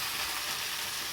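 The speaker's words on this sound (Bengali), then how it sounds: "আর কাঁচা কলা ভাজা করতেছি, কাঁচা কলা আলু ভাজা করুন।" Raw banana and potato slices sizzle in hot oil, a brief, steady, close frying hiss with no voices.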